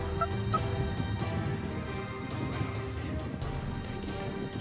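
A wild turkey gobbler approaches through Florida palmetto scrub, with rustling footsteps and faint bird calls over a low outdoor background, no clear speech.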